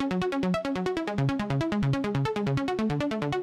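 Warm synth arpeggio built in FL Studio, cycling quickly through three notes with an even, punchy pulse, loud and alone with no voices.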